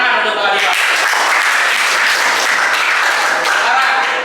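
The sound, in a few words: classroom applause for a presenter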